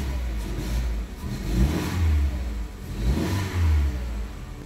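A Volkswagen Jetta engine with an EPC fault starts and revs, its mid-pitched roar swelling in two clear bursts over a steady idle, close and alone with no voices.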